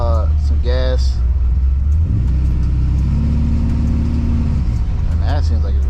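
A '64 Chevy with a freshly swapped 4L80E transmission idles loudly and close up after being restarted, its steady rumble stumbling a little, with brief voice-like tones at the start and end.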